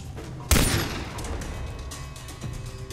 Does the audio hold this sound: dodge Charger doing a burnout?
no